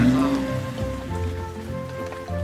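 Steady cartoon rain pattering on a surface, a dense wash of drops with a low tonal hum underneath and no voices.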